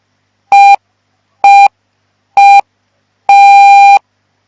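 Electronic Morse code tones give three short beeps followed by one longer beep, each steady and clear against silence.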